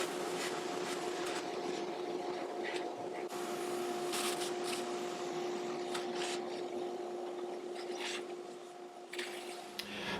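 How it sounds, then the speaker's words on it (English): A vacuum cleaner runs steadily and close by, sucking up fine sanding dust from a Les Paul guitar's fretboard after 600-grit sanding, with a constant motor hum and scraping, rubbing noises from the nozzle. "We'll just vacuum up the residual dust, and then we'll be ready to put new frets in."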